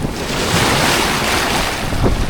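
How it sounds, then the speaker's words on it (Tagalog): Ocean surf at Subic Beach in Sorsogon on a rough, choppy day, with waves washing in steadily and loudly, wind buffeting the microphone throughout and no voices. "Lakas pati alon. Maalon siya guys ngayon."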